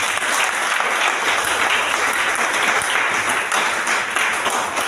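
A church congregation applauds loudly and continuously at worship, a dense wash of many hands clapping close by with no break.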